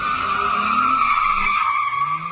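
Car tires screech in a long, loud squeal while doing donuts at a street takeover in a Milwaukee intersection. The whine holds steady and close for over two seconds before easing slightly.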